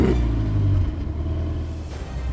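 A Ferrari Portofino engine starts and growls, a deep, loud rumbling exhaust note close by that swells briefly at first, then settles into a steady idle.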